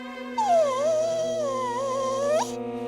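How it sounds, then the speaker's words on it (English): A dog whines in a kitchen as an audio drama effect, giving two long, high, wavering whimpers that rise and fall over a steady background hum. "Mary recognized Scruffy's whine coming from the kitchen"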